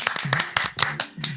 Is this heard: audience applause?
yes